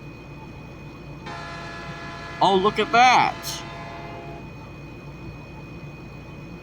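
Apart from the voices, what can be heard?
another train passing in Train Sim video game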